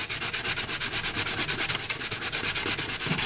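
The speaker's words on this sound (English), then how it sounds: "what will happen as soon as I hit this with the sandpaper" Sandpaper rubs back and forth over a painted fuel tank or fairing part from a Honda NS 250 restoration, a loud, close, steady rasping stroke repeated rapidly and evenly throughout.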